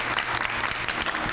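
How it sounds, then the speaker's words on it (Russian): Dense audience applause for both teams after a school quiz game, a short, even burst of many hands clapping at once with no talking over it. "Давайте аплодировать обеим командам."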